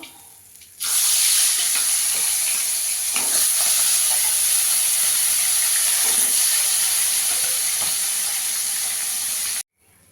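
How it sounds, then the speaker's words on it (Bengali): Fish pieces frying in hot oil for a Bengali fish curry give off a loud, steady hiss that begins abruptly, holds evenly for about nine seconds with faint scattered crackles, then cuts off. "বাকি মাছগুলো ভেজে নেব।"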